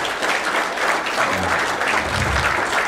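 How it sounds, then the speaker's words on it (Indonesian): Audience at a motivational talk breaking into lively applause to welcome a guest onto the stage, a dense, steady wash of many hands clapping together, sustained and fairly close, with no voices over it. "tepuk tangan yang meriah"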